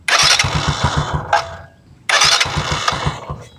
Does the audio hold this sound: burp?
no